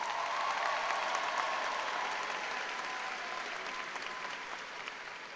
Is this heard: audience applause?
yes